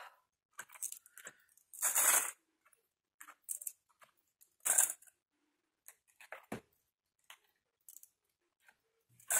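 Scissors cut paper in a quiet room, with separate short snips and clicks coming in irregular bursts and pauses between them.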